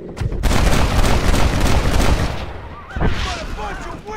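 Loud, dense gunfire from the Red Dead Redemption video game, with rapid overlapping shots and booms for several seconds, then a brief lull with a voice faintly underneath.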